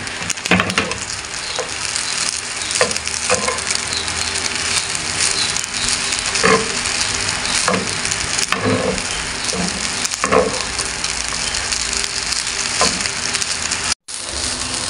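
Pork and rice stir-fried together in a pan for Chowking-style chowfan, a steady close sizzle broken by repeated scraping stirs of the spatula, with no talking.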